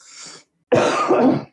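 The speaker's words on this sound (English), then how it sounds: "I got a cough." A person coughs in two bursts, a short lighter cough followed after a brief pause by a longer, harsher and louder fit, close up with no talking.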